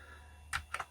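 A few soft, close keystrokes on an Amiga 600 keyboard, two or three quick clicks after a quiet pause with faint background hiss.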